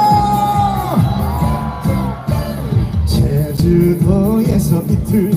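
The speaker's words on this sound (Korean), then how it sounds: "박수와 함성!" A crowd at an outdoor apple festival concert in Cheongsong cheering, whooping and yelling loudly over band music, voices rising and falling in dense bursts.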